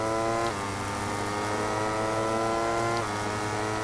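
A MotoGP motorcycle in MotoGP 18 accelerates hard out of the last corner at Losail, its engine note steady and loud with two sharp upshifts about two and a half seconds apart.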